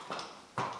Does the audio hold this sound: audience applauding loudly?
no